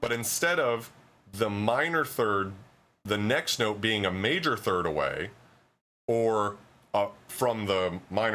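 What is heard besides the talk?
No distinct noise like a dog, phone or traffic.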